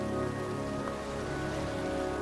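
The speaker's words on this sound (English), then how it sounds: "here I am, standing in a cemetery, in pouring rain" Pouring rain in the video game Heavy Rain falls steadily in a cemetery, a dense, even hiss of drops hitting surfaces with no voices over it.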